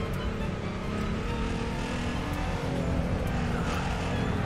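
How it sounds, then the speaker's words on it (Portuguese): Continuous car engine drone from the racing game The Crew 2, a steady hum with slight revving variations and no talking. "Escuta meu carro aí, ó."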